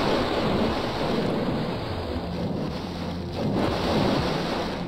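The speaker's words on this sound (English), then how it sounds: "My whole entire audio is just freaking splashing noises at this point." Continuous splashing and rushing water from a video game, loud and steady throughout with a slight dip midway, no talking.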